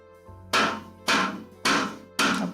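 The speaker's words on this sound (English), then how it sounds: "There's the hammering." Four loud, evenly spaced hammer blows ring out over a low musical tone in the Aevum: Aeterna demo video game, each strike sharp and followed by a short decaying ring.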